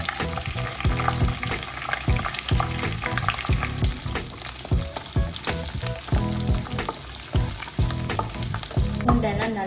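Garlic and curry leaves frying in oil in a pan, with a loud, crackling sizzle and rhythmic scraping stirs repeating close by, no talking.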